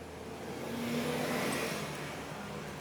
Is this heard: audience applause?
no